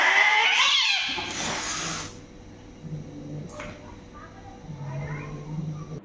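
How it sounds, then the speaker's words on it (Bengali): A female cat yowls loudly and harshly after mating, a short drawn-out cry at the start that fades, followed by softer low sounds and faint murmurs. "তো এখন দেখিয়ে দিচ্ছি ম্যাটিং সাকসেস হলে বিড়ালটা কিভাবে চিৎকার করে"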